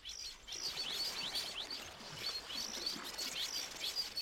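Male red-headed weavers call over refilled lagoons in Zambia's Luangwa Valley during breeding season, a dense, steady chorus of high chirps and chattering tweets with no other sound.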